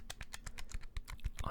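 Small plastic calculator buttons tapped in a quick, close, steady run of light clicks, soft and crisp with no talking.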